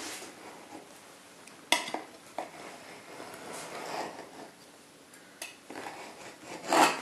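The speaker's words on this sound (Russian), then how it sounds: "Беру тарелку и по кругу вырезаю прямо в размер тарелки." A knife scrapes and rasps through thin flatbread, cutting around a plate to make a pizza base, with soft intermittent cutting strokes, a few sharper taps and a scratchy burst at the end.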